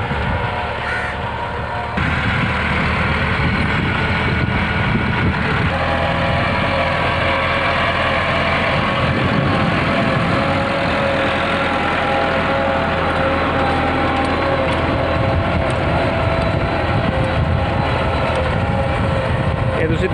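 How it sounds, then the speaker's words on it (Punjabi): A 1996 Massey Ferguson 375 tractor pulls a tine cultivator across a field being prepared for rice seedlings in rural Punjab, its engine droning steadily and continuously at close range throughout, with no speech over it. "ਕੰਘੀ ਹੱਲ ਚਲਾਇਆ ਜਾ ਰਿਹਾ। 375 MF ਟਰੈਕਟਰ ਆ"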